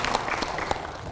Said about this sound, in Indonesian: Tepuk tangan sekali lagi untuk Pak Firman